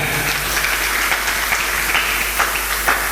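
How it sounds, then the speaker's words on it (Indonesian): Applause from a group at a cooperative awareness outreach event in Indonesia, steady clapping that carries on through the whole moment with no talk over it. "Bagus, tepuk tangan."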